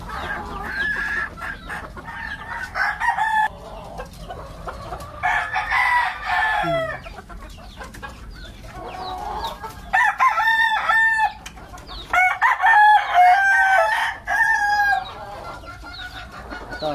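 Round head breed chickens cluck and crow close by in bursts, with repeated rooster crows and hen clucking separated by short quiet gaps and a faint rural background.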